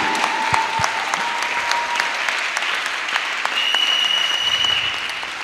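Audience applause at a French-language Christian worship gathering, a steady dense wash of clapping hands sustained throughout with no break.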